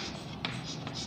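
A pen writes on paper during a class 2 maths lesson, a short, faint, close scratching with a couple of brief stroke accents, and no talk.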